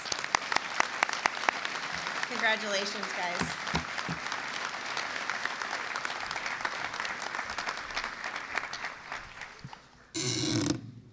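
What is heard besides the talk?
audience applause for scholarship students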